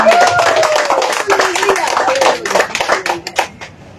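A church congregation claps for the Lord in a dense, fast burst of applause that slowly thins out, with a voice speaking over it.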